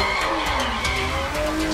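Tires squeal as a fast, hard-to-handle car skids in the open-world crime video game Sleeping Dogs, a loud continuous screech with engine roar running unbroken through the short stretch, no talk over it.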